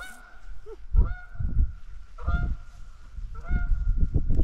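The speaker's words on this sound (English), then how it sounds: "I think my geese friends are back." Geese honk outdoors at a wild camping spot, giving several loud, nasal calls in irregular bursts over a few seconds, fairly close by.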